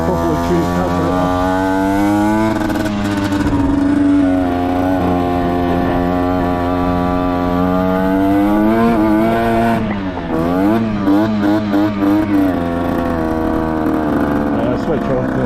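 A Derbi Senda motorcycle engine running after carburetor tuning, idling loudly and close with a buzzy two-stroke tone, then revved in several quick rising and falling blips.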